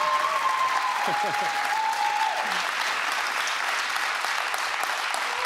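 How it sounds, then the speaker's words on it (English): Studio audience applause on a late-night talk show in Berlin, a steady loud wash of clapping and cheering throughout, with a brief voice heard over it early on. "It's your applause."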